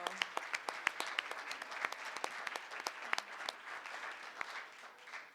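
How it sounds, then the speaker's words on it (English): Audience applause at a school board meeting, a moderate crowd clapping steadily in an indoor room for several seconds before it thins out at the end. "How about another round of applause?"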